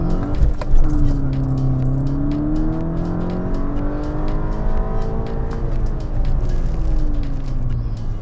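A VW MK6 GTI engine revs hard on a dyno run, pitch climbing steadily in a loud, continuous pull with a whining tone, with a rhythmic ticking over the top.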